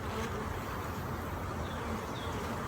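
A dense, continuous buzz of many honey bees at a hive, close and steady throughout with no pauses.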